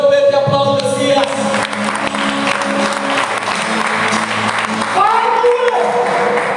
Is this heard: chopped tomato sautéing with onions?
no